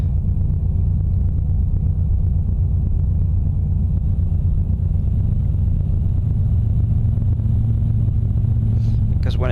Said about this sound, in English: Every once in a while, the truck accelerates and lets off, accelerates and lets off. That's that little choo sound that you hear.